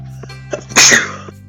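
One sharp, loud sneeze close to the microphone, preceded by a few faint clicks over a low steady hum.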